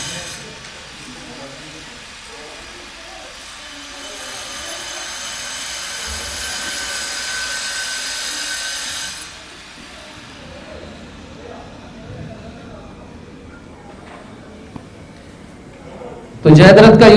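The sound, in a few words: grinder running nearby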